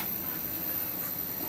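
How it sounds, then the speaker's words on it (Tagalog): Bananas fry in a pan with a soft, steady sizzling hiss that stays even and close throughout the short stretch. "Fry muna natin yung ating saging"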